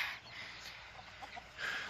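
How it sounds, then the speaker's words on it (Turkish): Village chickens clucking softly nearby, a few short clucks and murmurs over steady outdoor background noise, in Çanköy, Fethiye. "Köylü tavuklarım var."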